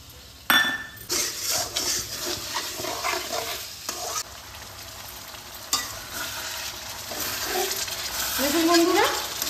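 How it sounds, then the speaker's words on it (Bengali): Goat liver is stirred and fried with spices in a pan: a steady sizzle runs throughout, broken by sharp metallic clinks and scrapes of a spatula against the pan, growing louder toward the end. "এবার আমি এর মধ্যে দিয়ে দেবো 250 গ্রাম খাসির মেটে। এই মশলাগুলোর সঙ্গে কষিয়ে নেব।"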